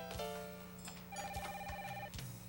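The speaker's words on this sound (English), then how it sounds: "He's got a cell phone on set." A cell phone rings on a film set, sounding a quiet electronic ringtone of short repeating tonal chirps with a steady low hum underneath.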